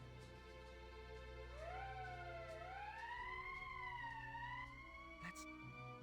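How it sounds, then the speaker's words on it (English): A wailing emergency siren in the Valkyria Chronicles video game rises and swoops in long tones. It sounds loud and steady over a low background hum, with no talk. "That's the emergency siren."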